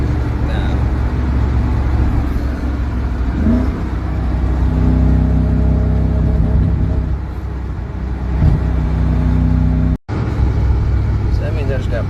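A BMW 540i6 pulls hard in fourth gear, its engine droning loud and steady for the whole stretch with a brief dropout near the end, wind and road noise mixed in.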